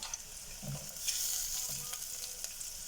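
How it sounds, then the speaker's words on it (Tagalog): Chopped garlic sizzles and fries in hot oil in a pan, a steady crackling hiss with occasional stirring scrapes, heard up close with no talking. "Naka-brown na ng konti. Lagay natin yung bawang."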